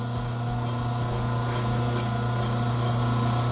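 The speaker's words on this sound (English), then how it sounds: "The diamond sharpens it because it's so hard." A clipper blade is ground on a spinning diamond sharpening wheel, giving a steady, close, loud rasping whir with a constant motor hum underneath and no pauses.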